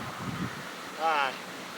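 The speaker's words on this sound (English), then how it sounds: "it's so windy out here" Wind blows outdoors in Riverhead, Long Island, a steady rushing hiss with a brief gust near the middle, and a voice talks faintly underneath.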